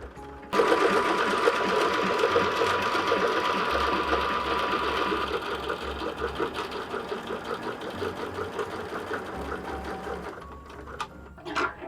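A sewing machine stitches with WonderFil thread on a robin cushion cover, running steadily with a fast mechanical whirring rhythm for most of the clip before slowing and stopping near the end, close and clear with no talking.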